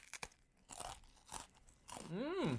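Japanese soka senbei rice crackers crunch in several sharp bites and chews up close, mixed with a voice and a rising-falling vocal sound near the end.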